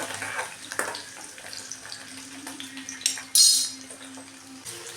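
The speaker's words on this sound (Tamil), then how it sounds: "பூண்டையும் போட்டுக்கணும் நல்லா கிளறி விட்டுக்கணும்" Garlic frying in oil with shallots as it is stirred, a soft sizzle under sporadic clinks and scrapes of a utensil against the pan, with a sudden louder burst of hiss midway.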